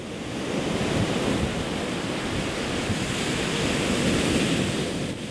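Ocean surf washes steadily onto the shore, a continuous broad roar of breaking waves with some wind buffeting the microphone, no voices present.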